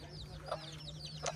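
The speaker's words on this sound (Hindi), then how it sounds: "And all these are your chickens?" Chickens on a Maasai homestead in Tanzania give a couple of faint, brief clucks against quiet background noise.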